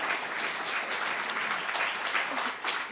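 An audience bursts into applause during a talk about women in Congress. A continuous, moderately loud patter of many hands claps for about three seconds with no speech on top.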